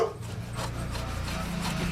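A one-inch chisel shaves across the grain of weathered barn wood, a soft, close scraping rasp in short repeated strokes over a low background hum.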